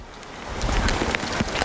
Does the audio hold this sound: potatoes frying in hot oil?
no